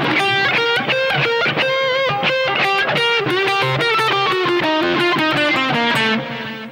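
A distorted electric guitar plays a quick solo phrase alone, with a fast run of sustained, bending notes and a held note at the end.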